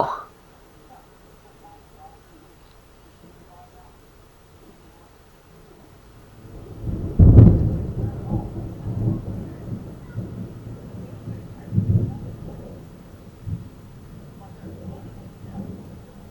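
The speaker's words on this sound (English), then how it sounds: "I just wanted to get some shots of lightning and the storm blowing in here." A thunderstorm moving in, with a deep rolling thunderclap building midway, then further rumbles over a low steady background of wind and rain, fairly distant.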